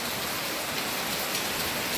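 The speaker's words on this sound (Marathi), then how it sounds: "हे बघा पाऊस किती भरपूर चालू आहे" Heavy rain pours steadily, a dense continuous hiss of drops striking surfaces with no break.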